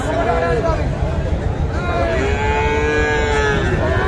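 Cattle and young calves moo repeatedly at the Kaharol weekly livestock market in Dinajpur, with overlapping calls over a constant babble of crowd voices and people talking.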